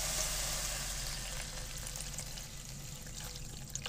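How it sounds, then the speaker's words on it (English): Water poured from a bottle into a cooking pot for noodles inside a van, a steady splashing pour that thins and softens toward the end, close and fairly quiet. "So I'm gonna put a cup and a half of water in there,"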